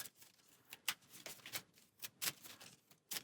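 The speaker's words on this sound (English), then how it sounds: "So shuffling the encounter deck." Arkham Horror card game encounter deck being shuffled, with repeated quick riffle bursts in an uneven rhythm, close and fairly quiet, with no talking.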